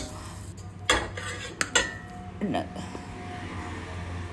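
A spoon stirs thickening batter for turmeric-leaf palm-jaggery patoli in a pan over low flame, with a few sharp metallic clinks and scrapes, then a quieter steady background.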